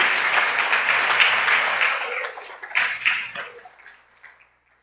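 A church congregation claps together in sustained applause during a Friday service, the dense clapping fading out over the final second or two.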